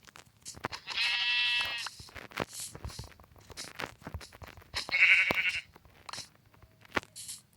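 Sheep in a video game bleat twice, a few seconds apart, each cry clear and close, between scattered clicks and soft footsteps, with no voices.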